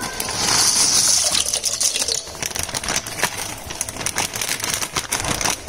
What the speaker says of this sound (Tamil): இதுல கொஞ்சம் தண்ணி சேர்த்து அதையும் சேர்த்துக்க போறேன்